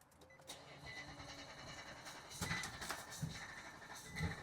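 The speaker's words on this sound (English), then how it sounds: "Let's go ahead and start it up" A 2021 Nissan Titan pickup with a replacement engine and a disconnected crank sensor cranks at length, its starter whirring steadily before uneven bursts suggest the engine trying to catch, heard close by but recorded quietly.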